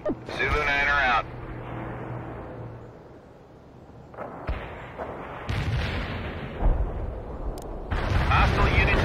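An artillery strike in the World in Conflict Cascade Range mission sends repeated deep booming impacts and rumbling blasts, interleaved with crackly radio voices.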